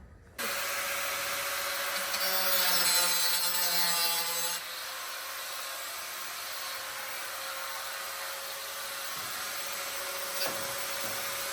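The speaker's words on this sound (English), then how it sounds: "And now we're just cutting off the excess and calling it a day." Wood boards on a chicken coop have their excess cut off with a loud, continuous power saw that whines steadily, dips slightly in pitch partway through, then keeps running close by.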